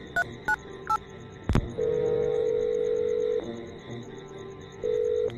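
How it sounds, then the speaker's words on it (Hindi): Several short mobile phone keypad tones beep in quick succession, followed by a steady, sustained call tone that pauses briefly and then resumes; no voices. "अपने मोबाइल से किसी को फोन करने लग जाता है।"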